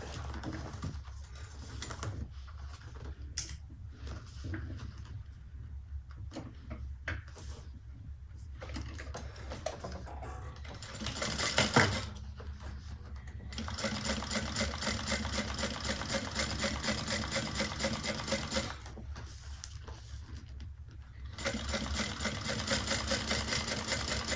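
Sewing machine top stitching a handbag, running in several long steady bursts separated by short pauses and small handling clicks, fairly close and clear.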